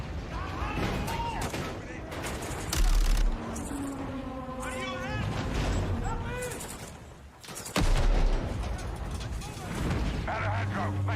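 Gunfire from a video game trailer shown at a livestreamed games showcase, with bursts of shots and loud impacts mixed under dramatic music and shouted character dialogue.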